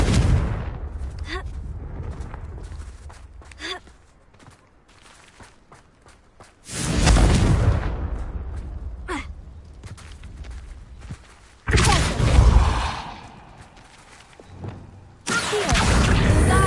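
Confringo spell explosions in a video game land as three loud, booming bursts a few seconds apart, with quieter stretches of footsteps, whooshes and a voice between them.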